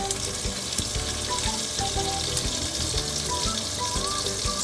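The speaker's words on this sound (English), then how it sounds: "So turn the instant pot to saute mode, and now it's hot. I'm adding 2 tablespoons of butter." Two tablespoons of butter hitting a hot Instant Pot on saute mode, giving a steady, close crackling sizzle with bursts of popping that carries on without a break.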